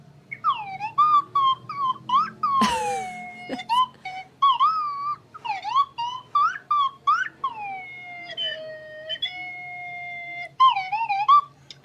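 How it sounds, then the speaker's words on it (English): A slide whistle plays a series of gliding, swooping notes, rising and falling in quick bursts and longer held tones, loud and close. "that's my slide whistle"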